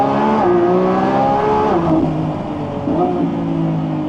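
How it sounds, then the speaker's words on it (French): A car engine revs hard and accelerates, loud and close, its pitch rising and falling through gear changes while a man exclaims over it. "La sonorité de cette voiture"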